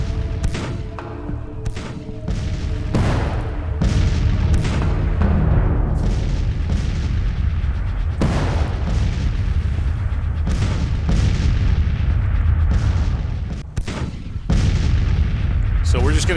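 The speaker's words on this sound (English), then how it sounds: "So we're just going to continue this bombardment in Norfolk." A sustained artillery bombardment from the video game Grand Tactician rumbles without pause, with heavy booms and cannon blasts overlapping densely over a deep, constant roar.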